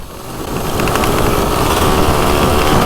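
A 1986 Honda MTX 125R two-stroke motorcycle revving off-road on an uphill trail, its engine a loud, steady, buzzing drone that builds slightly and holds close throughout with no voices.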